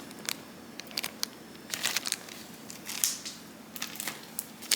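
Individually packed diamond painting drills are shuffled by hand, giving faint, scattered crinkles and crisp plastic clicks in irregular bursts.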